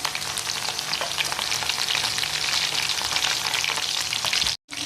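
Chicken nihari ingredients frying in hot oil, a dense, loud, continuous sizzle with faint stirring, close up and without talk, cutting off briefly just before the end.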